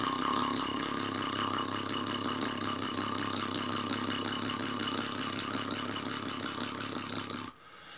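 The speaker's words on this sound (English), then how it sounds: "Just to hear the lope of a diesel." A diesel engine idles with a steady, loping rumble for about seven seconds and then drops off sharply near the end, with no talking.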